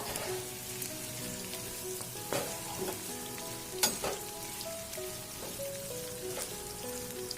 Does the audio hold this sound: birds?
no